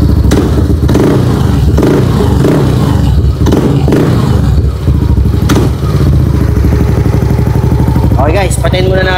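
A Yamaha NMAX V2 scooter engine idles and revs close by after a crankshaft position sensor replacement, a steady mechanical drone with clattering under someone talking throughout.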